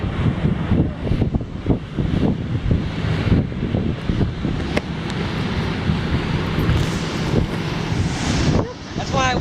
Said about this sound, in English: those are awesome waves for boogie boarding